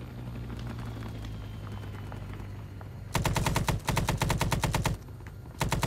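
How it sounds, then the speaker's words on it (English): Automatic weapon fire in the Vietnam-era shooter ArmA 3 S.O.G. Prairie Fire: after a steady low rumble, loud rapid bursts of gunshots crack out near at hand from about three seconds, pause briefly, then resume. "Now they're shooting."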